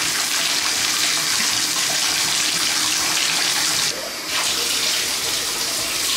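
Water runs hard and steadily from a tap into a tub while a dog is bathed at home, a loud continuous gush with one brief dip in the flow partway through.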